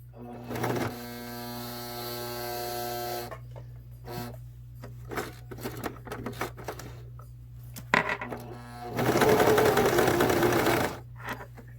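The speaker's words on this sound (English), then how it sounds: "And then you're going to start your Singer machine." A Singer sewing machine runs a blind hem stitch through fabric in steady motorized bursts, with a loud sustained stretch near the start and again near the end, separated by quieter clicks and handling noises over a constant low hum.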